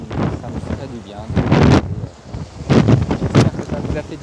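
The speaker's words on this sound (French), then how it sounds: "Waouh, le vent se lève." Wind gusting on a warm Algerian beach buffets the microphone in loud surges and lulls, with faint background voices.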